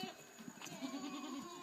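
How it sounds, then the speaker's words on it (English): Goats on a farm bleat faintly in a short wavering call, quiet and somewhat distant. "And here we have los chivos, the goats. They are not getting along too well right now."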